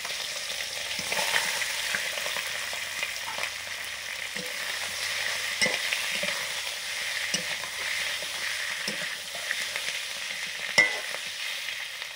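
Tengra fish lightly frying in a pan gives a steady, close sizzle for the whole stretch, with occasional soft scrapes and taps of stirring and one sharper clink near the end, no voices.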